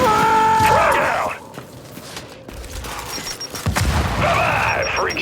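Frag grenade explosion in the video game Gears 5 during a horde match, a sharp boom amid mechanical game effects and rattling fire, loud and close.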